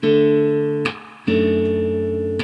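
Acoustic guitar chords ring out in two sustained strums, each decaying slowly before a short gap, close and clear with no talking.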